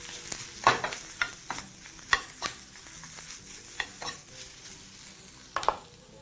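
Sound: spinach tossed in a smoking hot pan

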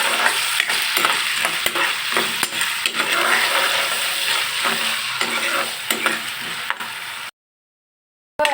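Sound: popcorn corn kernels frying in hot oil in a pan

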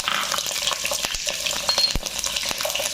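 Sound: onions frying in hot oil in a wok

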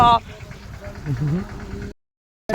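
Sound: tractor engine approaching

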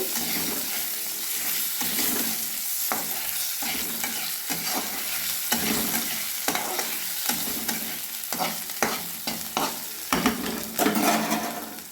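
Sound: panch phoron, dried chili and bay leaf frying in oil

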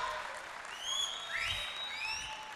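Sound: audience applause during felicitation

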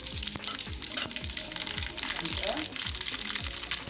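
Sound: mustard seeds and cumin sizzling in hot oil

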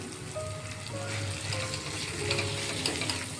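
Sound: masala roasting in oil, frying

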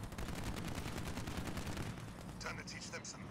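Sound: machine gun turret fire from Scorpion units in video game

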